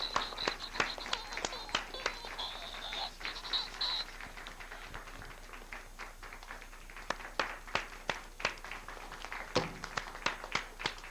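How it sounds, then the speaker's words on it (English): Scattered audience clapping at a family fun venue with a performing dog, a loose run of crisp individual claps spread across the room, irregular and moderately close, with a brief high whistle-like tone early on. "Come on, clap, guys."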